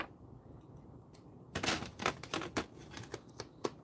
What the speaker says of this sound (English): No, definitely easier with the scissors.